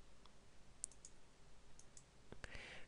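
A few sharp, close computer mouse clicks sound on a quiet background, with two quick clicks near the end, while working in embroidery design software.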